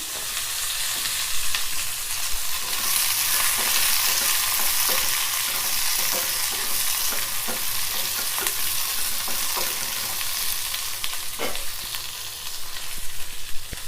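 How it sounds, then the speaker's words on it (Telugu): Onions frying in oil for an onion chutney hiss steadily in the pan, with repeated scraping and stirring clicks and a few sharper pops over a continuous sizzle. "ఉల్లిపాయలు కొంచెం ఆయిల్ వేసుకొని మంచిగా ఉల్లిపాయలు మగ్గించుకున్నాం"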